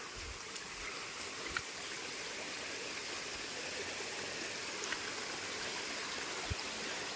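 Spring water flowing steadily into a public village well in Sakurde, a continuous rushing stream sound with no voices and a few faint knocks.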